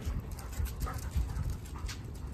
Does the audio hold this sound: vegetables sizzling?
no